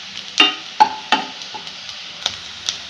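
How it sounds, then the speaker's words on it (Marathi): Curry leaves, cumin and mustard seeds tempered in hot oil while stuffed tondli is being cooked, giving a few sharp close spits and crackles spaced apart over a quiet hiss, with no talking. "आता त्यामध्ये 2-3 कढीपत्त्याचे पानं, जिरे, मोहरी ह्याचा छान असा तडका घ्यायचा आहे।"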